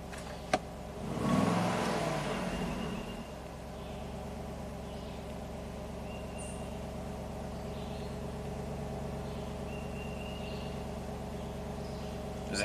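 A Cadillac Allante's Northstar V8 settling at idle after a restart, with a steady low mechanical hum and a brief louder swell near the start before it holds an even, continuous drone.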